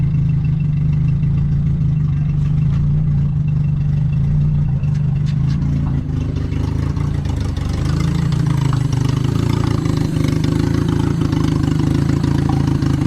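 A turbocharged Honda Civic engine idles loudly and close, a steady droning hum that shifts slightly in pitch partway through and then settles, with no talking over it.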